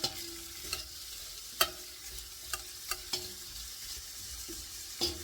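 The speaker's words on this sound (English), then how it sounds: "make sure you just stir that around. You don't want that to burn as this is cooking." A spoon stirs browning onions in a soup pot, scraping the bottom with scattered clinks and knocks over a steady soft sizzle, close and fairly quiet.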